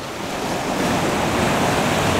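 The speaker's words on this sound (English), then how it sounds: "some nice kind of trailing waves on the rocky area in the foreground" Ocean waves wash and break over a rocky shoreline in a continuous loud hiss of surf, with wind noise over the microphone.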